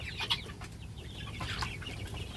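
Several chickens, kept as a small flock of Faomi hens, cluck and call intermittently over a steady low rumble, with sharper clucks near the start and scattered softer calls throughout.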